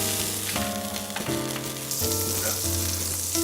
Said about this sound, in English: This guy has been sauteing for about a minute